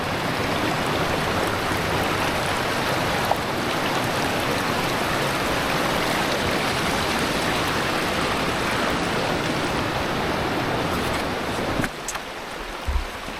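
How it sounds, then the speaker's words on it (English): Rushing water from a partially frozen waterfall in the Colorado mountains, a steady broadband roar that stays loud and unbroken, then drops off sharply near the end. "That waterfall was pretty sweet, especially it being still partially frozen."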